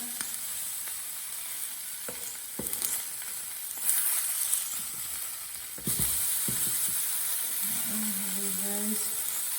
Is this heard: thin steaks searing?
yes